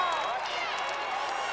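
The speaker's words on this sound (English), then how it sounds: "And up goes a cheer from the crowd." A baseball crowd lets out a sustained cheer, a broad wash of voices with applause holding steady and fairly close.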